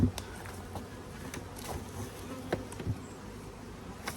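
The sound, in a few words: honeybees buzzing around a hive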